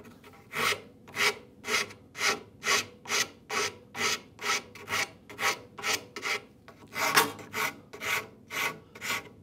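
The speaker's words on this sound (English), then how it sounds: "And this is where I go to my rasp again." A rasp shapes a wooden saw handle in steady, rhythmic strokes, about sixteen coarse rubbing passes close up, each rising and fading evenly, with no talking.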